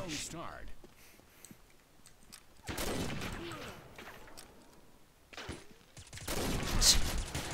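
Gunfire in the Combat Arms online shooter, bursts of shots and booming impacts in two loud stretches with quieter game noise between, someone talking over parts of it.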